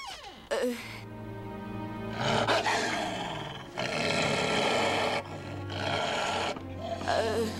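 Low, rumbling growls from a white she-wolf in a French animated series, coming in several long sustained bursts with brief pauses between them, loud and close.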